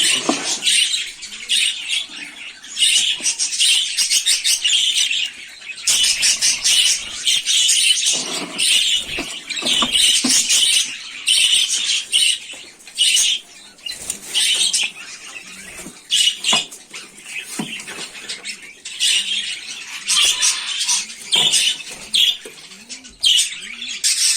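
Budgerigars in a breeding cage keep up a dense, loud chatter of chirps and warbles, with bursts of fluttering wings and scuffling close by.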